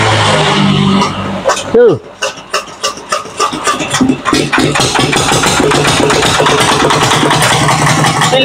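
An old secondhand tractor engine is hand-cranked and catches, settling into a loud, steady, rapid chugging run after a few uneven turns, with a brief voice at the start.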